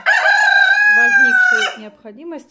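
A rooster crows loudly and close, one long sustained call with a falling tail, followed by a brief voice speaking afterward.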